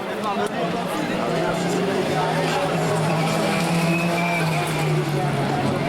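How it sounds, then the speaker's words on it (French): Four-wheel-drive rallycross cars race at a French championship round in Lavaré, engines droning at a distance in a steady roar beneath a commentator's continuous talk. "voiture 4 roues motrices"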